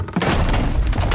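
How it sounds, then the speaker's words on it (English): A loud explosion from the game Girls' Frontline, a sudden close thump that breaks into a crashing, shattering burst, with rumbling debris roll filling the rest of the short moment. "The huge explosion sends debris flying in all directions and triggers a shockwave of smoke and dust."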